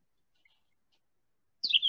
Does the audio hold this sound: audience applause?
no